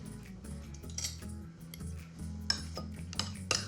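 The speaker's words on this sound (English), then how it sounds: "And I just give this a quick stir." Thyme butter stirred in a bowl with a metal utensil, faint clinks and scrapes of metal against the dish repeating in a quick, uneven rhythm, close and quiet.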